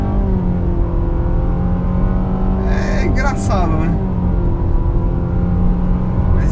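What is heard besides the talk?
Nissan Sentra 2.0 CVT car accelerating at full throttle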